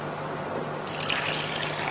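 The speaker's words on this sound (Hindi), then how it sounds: "थोड़ा सा और जाएगा पानी।" Water pours and trickles into flour in a mixing bowl while roti dough is being made, a soft steady splashing that swells midway and continues close up with no talking.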